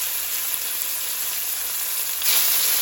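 Oxtails browning lightly in a hot pan give a steady, close broadband sizzle that holds even and swells slightly louder near the end, with no voices.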